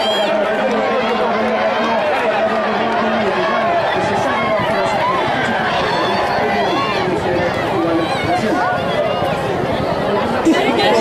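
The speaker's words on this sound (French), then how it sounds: "allez pouvoir entendre l'effervescence de la foule" An excited crowd roars and chatters steadily at a galloping horse race finish at Deauville-Clairefontaine, a dense, continuous hubbub of many voices close around.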